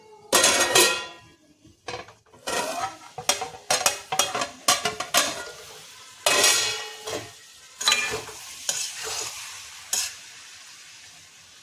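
Metal lid lifted off a pot of mixed vegetable sabzi after slow simmering, followed by a run of clanking pot and utensil knocks, stirring scrapes and a soft sizzle, close and fairly loud, with no talking.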